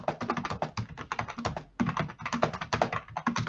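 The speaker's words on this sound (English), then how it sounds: "Sorry about my keyboard." Rapid typing on a computer keyboard, a dense run of close, fairly loud key clicks in irregular bursts with a brief pause midway, no voices over it.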